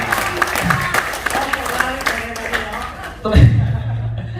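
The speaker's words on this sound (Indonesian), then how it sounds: "Tepuk tangan buat Bu Suryanti ya." An audience at a debt-relief business presentation applauds and chuckles in short, scattered bursts under a presenter's ongoing speech, with a louder burst near the end.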